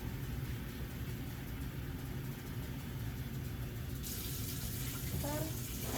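Tap water runs steadily into a basin during perineal care skill practice, a constant broadband hiss that brightens near the end, with no talking over it.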